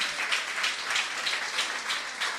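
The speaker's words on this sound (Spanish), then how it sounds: "bien puedes darle una fuerte ofrenda de aplauso" A church congregation gives a short burst of dense, steady applause from many hands, with no voices over it.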